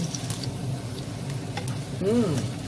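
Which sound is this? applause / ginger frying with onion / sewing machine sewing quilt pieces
ginger frying with onion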